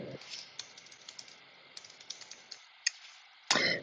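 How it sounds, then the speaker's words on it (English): Computer keyboard typing a short text phrase: a run of light, irregular close key clicks over faint room noise, ending with a sharper louder clack. "I bring in some text and then I'm just going to type Happy Holidays here."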